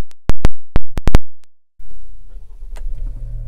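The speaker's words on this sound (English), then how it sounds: "Take you inside, we'll start the vehicle up." A 2020 Chevrolet Traverse starts up after a series of sharp interior chimes and clicks, then its engine settles into a steady low idle.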